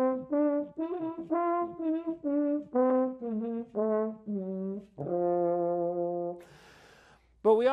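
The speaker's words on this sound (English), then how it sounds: "I can change the notes by using my hand in the bell." A small French horn played with a hand in the bell to shift its notes, heard as a phrase of short, rounded brassy tones followed by one long held note, close and fairly loud without talk.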